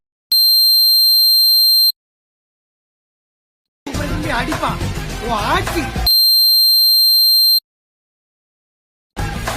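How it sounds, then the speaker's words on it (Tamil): Censoring beeps of a pure electronic tone play over Tamil political speech: two long steady beeps of about a second and a half each, alternating with bursts of talk that is briefly heard between them. "பீப் சவுண்டை போட்டு தான் போடுறேன்"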